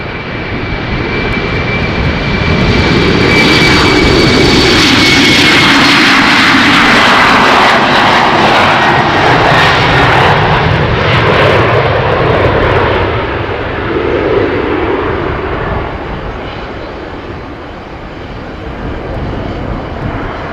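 A KLM airliner rolls for takeoff at Amsterdam Schiphol with a loud, broad jet engine roar and a rising whine that swells over several seconds, then eases slightly as the aircraft moves away.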